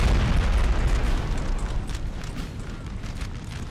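Artillery fire in Napoleon Total War, a loud rumbling volley of overlapping cannon booms that roll on and slowly fade.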